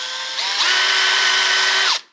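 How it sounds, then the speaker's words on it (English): Power drill boring screw holes into a wooden door while a deadbolt is installed: a single close, loud whine of about two seconds that rises in pitch as the drill speeds up, then cuts off sharply. "I got to drill those holes and put in those screws."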